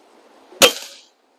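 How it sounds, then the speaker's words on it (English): A Diana 34 air rifle fitted with a Macarri tune kit fires one short, close crack with a brief decay, then silence. "I really like a smooth shooting rifle, and this one is definitely a smooth shooting rifle now."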